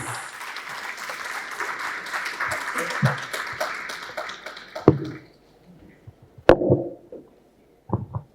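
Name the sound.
applause from audience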